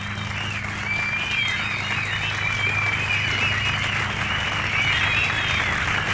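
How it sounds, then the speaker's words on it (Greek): An audience applauds fourth-year students called onto a stage at a school celebration, sustained even clapping from a full room that carries on for several seconds with a faint background tone beneath it. "Ας τους χειροκροτήσουμε όλοι."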